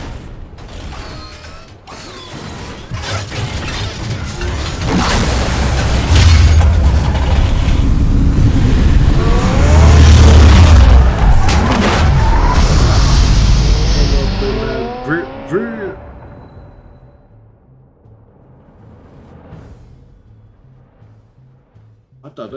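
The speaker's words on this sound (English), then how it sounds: "Oh, so that's the Batmobile?" Batmobile from Batman: The Telltale Series driving in a video game, a loud sustained mechanical engine and gear whir with creaking, ratchet-like clicks that swells, then fades out near the end.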